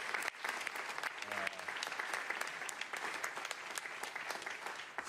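An audience claps steadily for about five seconds at an outdoor event unveiling a renovated Harlem field, a dense and even patter of many hands.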